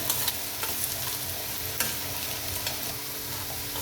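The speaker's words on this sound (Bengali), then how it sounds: "পেঁয়াজটা ভাজবো" Onions frying in a pan with a little ginger, garlic and salt for a boal fish curry, giving a steady close sizzle broken by scattered clicks and scrapes of stirring throughout.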